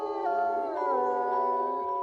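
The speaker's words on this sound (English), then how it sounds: "Different wolves would howl longer and louder for certain individuals." Several timberwolves in Austria howl together, long sustained overlapping tones rising and falling in pitch, clear and fairly close with no other sounds.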